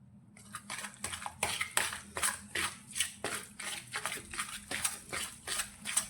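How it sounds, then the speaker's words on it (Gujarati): Jaggery being mixed into a sweet rajgira sukhdi mixture with ghee in a pan, heard as a steady run of scraping, clinking spoon-on-metal strokes in quick rhythm, close and fairly loud. "હવે ગોળને આપણે સારી રીતે મિક્સ કરીશું."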